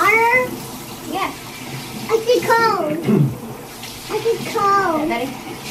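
Tap water runs at home as a steady broadband wash under the talk of an adult and a child, with the voices on top most of the time.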